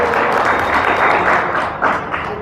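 Audience clapping at a youth cadre camp in a village hall in Uttar Pradesh, India: steady, dense applause filling the whole stretch, fairly loud, with a few brief swells and no voices standing out.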